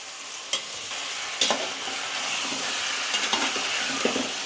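Boiled chickpeas for palya stirred in a hot pan, a steady close-up sizzle of frying with intermittent scrapes and taps of the spoon against the pan.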